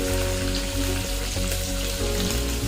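Green chillies hit hot oil with sautéed dal for upma and give a dense, even sizzle close by, held steady under a low background hum.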